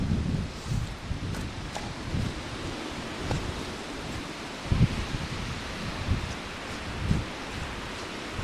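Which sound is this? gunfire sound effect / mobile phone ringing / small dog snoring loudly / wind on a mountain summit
wind on a mountain summit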